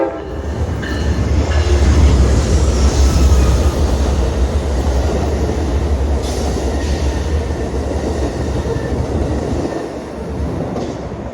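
A freight or passenger train rolls along the Grand Junction railroad in Cambridge, Massachusetts, its loud, steady rumble and rail clatter filling the scene, with a brief horn-like tone early on before the noise eases slightly.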